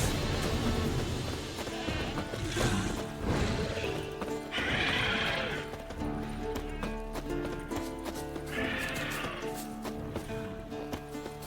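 A purebred warhorse in a fantasy video game neighs and whinnies in loud bursts, with clip-clopping hooves and a thick layer of game music and effects underneath.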